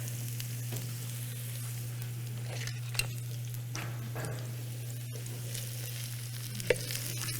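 Vegan tempura-style batter frying in a pan, a continuous close sizzle and crackle over a steady kitchen hum, with a couple of brief clinks from utensils.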